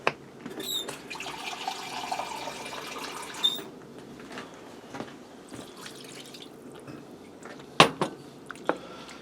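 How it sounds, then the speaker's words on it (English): Water pours from a cup into a stew pot in a home kitchen, a splashing trickle for a few seconds followed by quieter drips and sharp clinks of a utensil against the pot. "I'm going to add a cup of water in."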